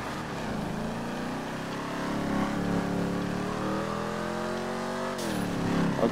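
A Ford Mustang driven in Grand Theft Auto V: a steady, loud engine drone that climbs gradually in pitch as it accelerates, dips briefly near the end, then keeps pulling, with no talking.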